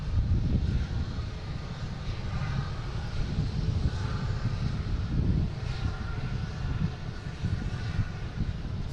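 An airliner bound for Mexico City rumbling at Boston Logan International Airport, a steady low engine roar with a faint higher whine, continuous and moderately loud with no talking.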